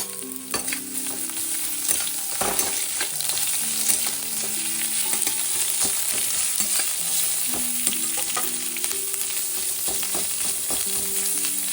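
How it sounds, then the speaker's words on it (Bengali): Chopped onions and green chillies frying in hot oil for poha: a loud, steady sizzle and crackle filling the whole clip, with occasional stirring scrapes and no talking. "এবার দিয়ে দিচ্ছি এখানে পেঁয়াজটা, কুচি করে রেখেছি পেঁয়াজ, পুরো পেঁয়াজটাই দিয়ে দিলাম।"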